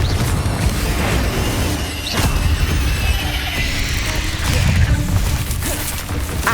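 The Confringo blasting spell cast in Hogwarts Legacy, a dense booming burst with crackling impacts, loud and continuous over rumbling game action with no pauses.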